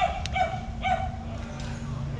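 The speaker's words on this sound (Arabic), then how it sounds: "ها الكلب اللي خرج هذيك." A dog barks outdoors at night in the desert, two or three short sharp yips close by over a steady low background rumble.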